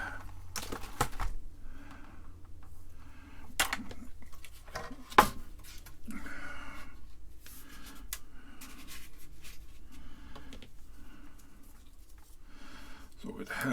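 A Tandy Model 4P portable computer with its keyboard attached is slid and shuffled on a work surface during reassembly, giving scattered scraping, bumping and tapping noises with a sharp knock midway, while someone talks throughout.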